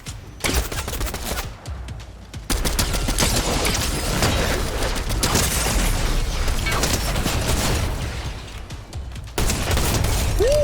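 A slower-firing automatic weapon in Fortnite fires a continuous string of gunshots at a tree, dense and loud across most of the span, with a brief pause early on.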